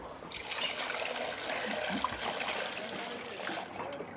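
Grape must trickling steadily as it is transferred during a harvest-time event, a faint continuous liquid dribble against a background of distant activity.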